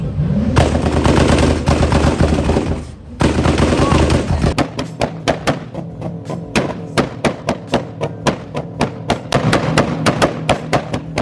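A roaring Lamborghini engine gives way to a rapid series of sharp, loud two-step exhaust pops and bangs in a stuttering rhythm, close by.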